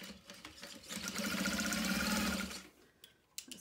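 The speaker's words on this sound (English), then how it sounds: "And now we're gonna top stitch around the outside edges." Sewing machine top stitching around the outside edges of a reusable car trash bag, a steady close mechanical whir running for about a second and a half before stopping, with light handling clicks afterward.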